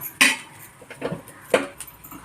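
A pan set down on a hot tawa griddle with a few sharp metallic clanks and scrapes, three distinct close knocks spaced across two seconds with quieter rattles between.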